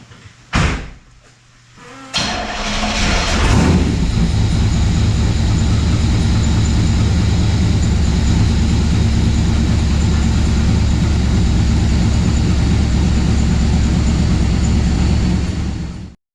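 A 1979 C3 Corvette V8 converted from a carburetor to EFI cranks and catches after a couple of short bursts, then settles into a loud, steady, close idle that runs on without talk.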